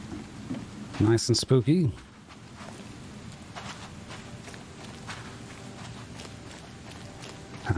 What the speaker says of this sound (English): Just reading the paper out in the rain, as people do.